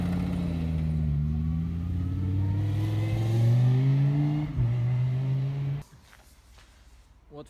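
A street-legal Lamborghini Huracán Super Trofeo EVO race car pulls away on a public street, its engine note rising loud and close through the gears before cutting off abruptly into quieter surroundings.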